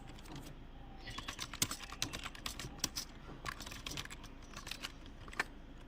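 A Linux umount command being typed on a computer keyboard, a quick irregular burst of close, crisp key clicks with short pauses between groups of strokes.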